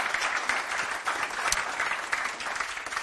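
A conference audience applauds its speakers, a steady patter of many hands clapping at moderate loudness, with slight swells and a few sharper claps standing out.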